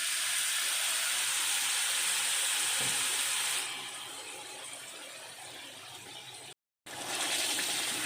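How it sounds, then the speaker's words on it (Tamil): Water splashes into a hot pan of frying thuthuvalai (climbing brinjal leaf) paste for a Tamil chutney, giving a loud, steady sizzling hiss that eases partway through, briefly cuts out, then returns at full strength. "நம்ம மிக்ஸியை கழுவி 2 ஸ்பூன் அளவுக்கு தண்ணி ஆட் பண்ணிக்கலாம்."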